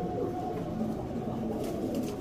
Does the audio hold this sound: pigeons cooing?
yes